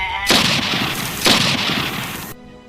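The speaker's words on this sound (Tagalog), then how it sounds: "Sinunod pa ng putok ng baril." Gunshot sound effect in a Filipino horror drama, two sharp, loud blasts about a second apart, each with a short rumbling tail, and no talking.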